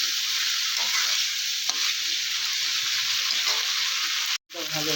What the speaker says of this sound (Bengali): জল দিয়ে দিলাম, দিয়ে বেশ কিছুক্ষণ নাড়াচাড়া দিয়ে দিলাম।